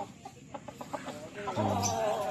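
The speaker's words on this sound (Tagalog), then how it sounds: "Ganda, ganda ng mga manok niya" Several farm chickens in a coop cluck nearby in short, choppy bursts, then one gives a louder, drawn-out squawk.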